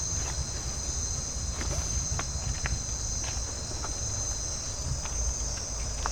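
A cricket chirps at night in the Drake Bay rainforest of Costa Rica, a steady high-pitched trill running continuously over low ambient murmur, with a few faint scattered clicks and taps nearby.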